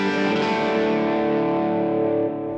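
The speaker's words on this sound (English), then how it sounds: "my drive sound, and then typical dotted eighth here" An electric guitar plays a sustained, distorted drive tone with a dotted-eighth delay on a Kemper profiler, its chord ringing loud and steady before decaying slightly.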